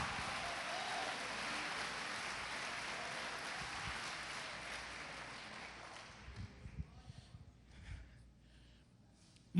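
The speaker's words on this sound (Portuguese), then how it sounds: "Pode aplaudir e glorificar." A church congregation applauds in a steady, dense wash of clapping that fades out toward the end, leaving a few scattered sounds, heard from a distance with no talking over it.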